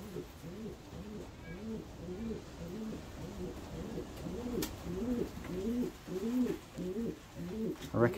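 Pigeons in a loft coo in a soft, repeated rolling rhythm, a male's call recurring over and over at close range against a quiet background.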